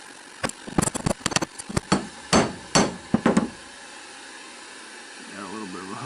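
A hammer strikes thin hot steel stock on an anvil in a basement forge, a rapid irregular series of sharp ringing blows that stops partway, followed by a low steady hum with faint talk.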